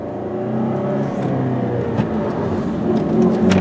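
A 2005 Saturn Vue with a five-speed manual gearbox pulls away under acceleration, its engine droning steadily with rising harmonics, recorded from inside the cabin without talk.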